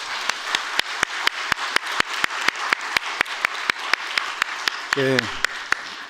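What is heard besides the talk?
congregation applause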